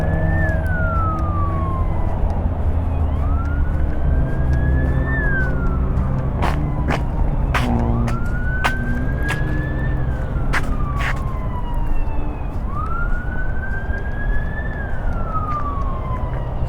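An emergency vehicle siren wails in rising and falling sweeps from a freeway near Papago Park in north Tempe, heard at a distance over steady traffic rumble, with sharp clicks and thumps close by.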